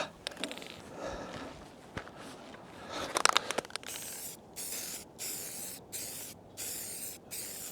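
Repeated bursts of aerosol spray hiss close by onto a plastic snowplow blade, several short sprays in a steady rhythm with brief pauses between, after some rustling and handling noises.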